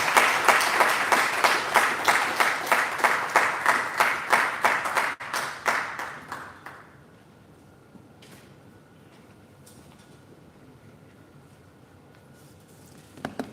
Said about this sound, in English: Please, a round of applause for him once again.